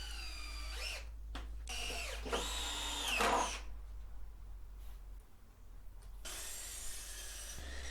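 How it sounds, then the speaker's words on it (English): A power drill drives deck screws into the wooden legs of a potting bench, with a few rising whirring bursts early on, then a quieter pause and one more sustained run near the end. "attached them with deck screws"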